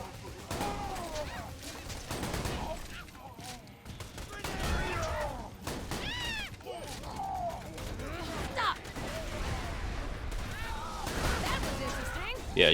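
Repeated gunfire from the Striker shotgun in Borderlands 2, several booming blasts scattered through a busy game battle with other effects and noise, with a voice talking over it.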